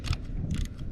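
A socket ratchet clicks in short bursts on a clutch bleeder screw of a 1962 Ford C750 cabover truck, with quiet mechanical ticking close by and no voices.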